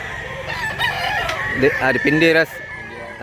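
A rooster crows loudly and close by at a Cebu chicken market, one drawn-out cock-a-doodle-doo over background clucking and ambient noise.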